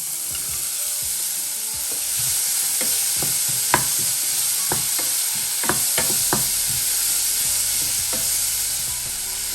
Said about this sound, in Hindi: इसको हल्का सा सौते कर लेंगे। और साथ ऐड कर देंगे शिमला मिर्च 200 ग्राम।